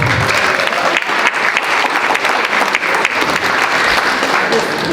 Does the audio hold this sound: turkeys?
no